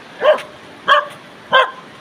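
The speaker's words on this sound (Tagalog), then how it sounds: "kasama natin yung mga aso" Three sharp dog barks, evenly spaced about half a second apart, loud and close with no other sounds around them.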